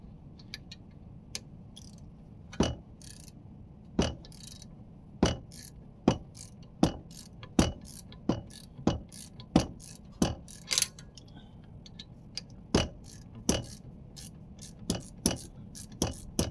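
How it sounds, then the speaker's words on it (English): A brake caliper bolt on a 2016 BMW X1 being loosened during a front pad change, heard as a steady series of sharp, evenly spaced ratchet clicks, close and fairly quiet, with no talking. "And now we're gonna remove the bottom bolt."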